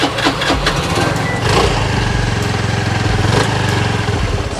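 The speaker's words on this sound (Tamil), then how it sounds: "செல்ஃப் போட்டு காமிக்கிறவாங்க." A used two-wheeler from 2020 with self-start sits idling close by, its engine putting out a loud, steady, buzzy chug with a light rattling rhythm and no talk over it.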